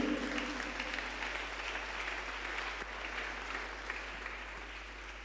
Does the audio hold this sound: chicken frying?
no